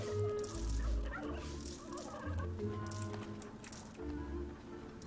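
Turkey-like gobblers gobble in the Dungeons 3 video game, several throaty bursts over background music, with metallic coin clinks scattered between them.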